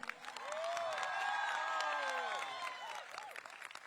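A crowd at a Gujarat government cultural event in Tapi district applauds and cheers, a swelling wash of clapping with whoops, rising and then tapering off.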